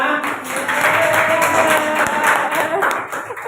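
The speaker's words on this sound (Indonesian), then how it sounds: "tepuk tangan P5" Classroom applause for player 5, a steady round of clapping from a group of students, dense and fairly loud, with voices mixed in.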